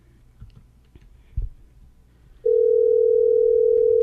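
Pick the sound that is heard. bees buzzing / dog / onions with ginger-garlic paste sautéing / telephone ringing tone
telephone ringing tone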